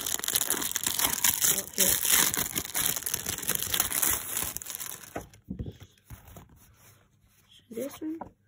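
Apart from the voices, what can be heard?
tearing open Pokemon Chilling Reign card pack wrapper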